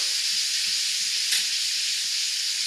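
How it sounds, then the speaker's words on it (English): A steak searing in a hot cast iron pan makes a steady, bright sizzle and hiss throughout, with one short flare of spatter partway through, heard close with no voices. "I'm going to flip that real quick and let the pan sear the other side just a little bit more."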